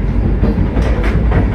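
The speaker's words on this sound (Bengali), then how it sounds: "এখানে স্টপেজ নেই বন্দে ভারতের, পাস করে যাচ্ছে।" Vande Bharat Express train running through New Farakka Junction without stopping, a loud continuous rumble with rhythmic wheel clatter close by.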